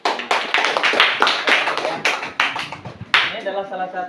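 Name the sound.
class applauding, clapping hands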